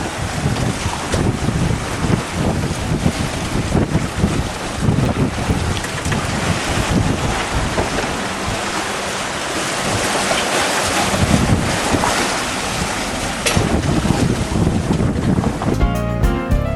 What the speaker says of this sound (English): You can see we're just literally hanging on for the ride as we get bounced around quite a bit.